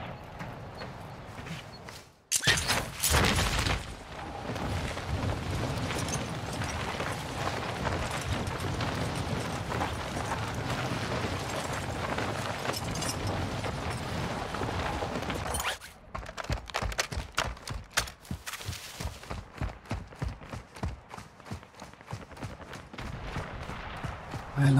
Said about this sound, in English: Loads of gunfire there